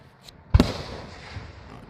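A single loud firework burst booms nearby during a night display, then trails off into a long, soft crackling fizz.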